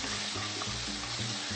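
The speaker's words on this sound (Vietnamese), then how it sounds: "Thì mình sẽ cho phần thịt này vào." Meat frying in hot oil in a pan with browned minced shallots and garlic gives a loud, continuous sizzle with stirring scrapes and bumps underneath. No one talks.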